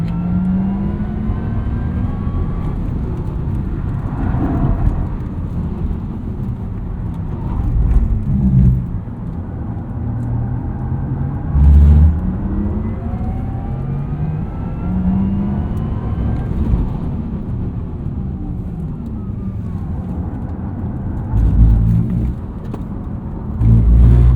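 A 2023 Porsche Taycan Turbo electric car driven on a track, its motor whirring and rising in pitch through repeated surges of acceleration out of corners, heard from inside the cabin with tyre and road noise beneath.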